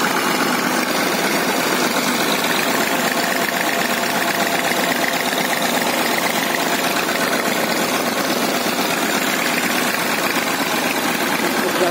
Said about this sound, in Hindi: ट्रैक्टर की आवाज़ भी सुन लो